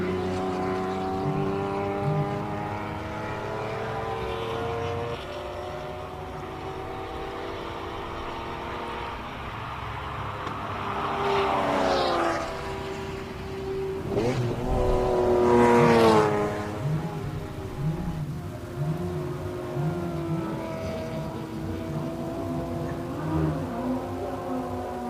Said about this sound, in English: we're going to shut up and just listen to the Ferrari